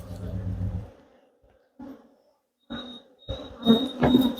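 Honey bees buzzing as a frame is shaken over a hive in a farm apiary, with short bursts of droning near the microphone and a higher whine toward the end, while a person talks.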